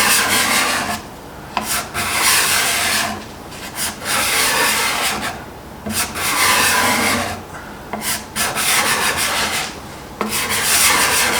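Accu-Burr burnished card scraper shaving a thick wooden board, rhythmic loud rasping strokes in repeated bursts with brief pauses between, close up and alone.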